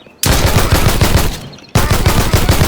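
Rapid automatic AK rifle fire in a video game rattles in two long, loud bursts, separated by a brief pause.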